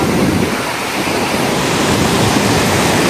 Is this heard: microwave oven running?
no